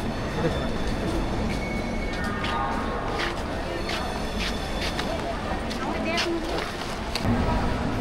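A train pulls into Howrah station amid a dense rumble of rolling wheels and clattering carriages, with faint squeals and crowd noise from the busy platform.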